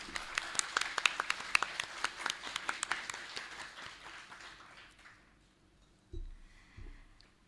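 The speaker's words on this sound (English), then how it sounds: "A big round of applause for sir." A modest crowd at a leadership summit claps, sharp individual claps ringing out for several seconds before fading away, leaving a couple of faint thumps near the end.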